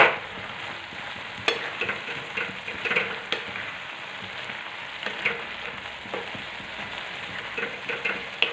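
Crushed peanuts and coriander are stirred into a sizzling pumpkin curry, with a steady frying hiss and repeated soft scrapes and taps of a spoon in the pan.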